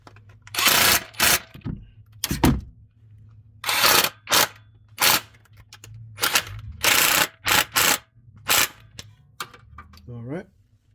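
A ratchet wrench tightens bolts on the crank pulley of a 2008 Acura MDX, giving repeated bursts of rapid clicking separated by short pauses, close and loud, ending in a brief rising whir.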